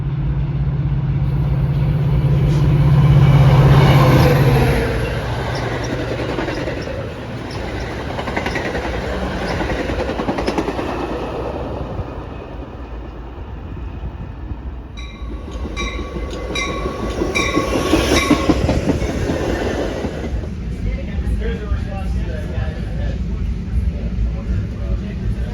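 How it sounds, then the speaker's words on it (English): A BNSF line commuter train bound for Union Station rolls along the rails, heard from inside with a continuous low rumble, rhythmic clatter and swells in volume, plus occasional speech. "we're about to hop on a BNSF line train towards Union Station"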